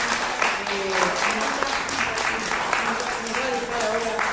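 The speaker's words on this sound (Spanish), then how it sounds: "Vamos a pedir un fuerte aplauso a nuestra amiga." Audience applauding a guest at a Uruguayan music event, steady clapping throughout with a voice speaking over it and some tonal sounds in the background.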